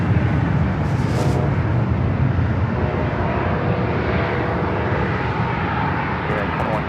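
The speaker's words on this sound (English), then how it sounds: "At the Air Canada Express Jazz CRJ up next for takeoff." An Air Canada Express Jazz CRJ regional jet taking off at San Diego airport, a loud, continuous jet engine roar that stays strong and steady, with faint radio chatter mixed underneath.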